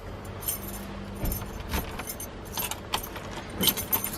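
A bunch of keys jangles and clinks in short bursts while a house front door is being unlocked, close and crisp, with a faint car passing in the background and no talk.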